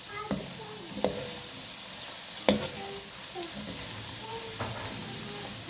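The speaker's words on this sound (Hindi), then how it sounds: "ये देखिए कितने अच्छे हमारे फ्राई हो रहे हैं।" French fries deep fry in oil with a soft, continuous bubbling hiss, punctuated by a few sharp clicks and taps of a utensil against the pan.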